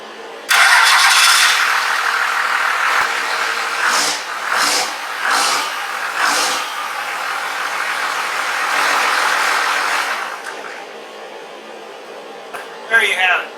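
A 12 valve Cummins diesel engine cranks and fires up, then settles into a loud, steady clattering idle with a few revs, close by, while people talk over it.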